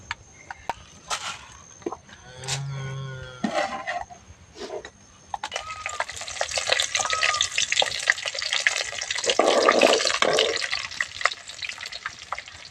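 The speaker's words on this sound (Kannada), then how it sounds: "ಹಾಕಿ ಎಣ್ಣೆ ಕಾದೋಯ್ತು." Oil heating and frying in a pan in a home kitchen, starting with scattered clinks and clatter, then growing into a steady, close crackling sizzle that swells and fades without any talking.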